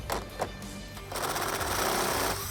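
Power tool, likely an impact driver, buzzing in short bursts and then a longer sustained run while removing 8mm bolts from the top of a 2015-2017 Mustang GT front bumper in a garage, close and fairly loud with no talk.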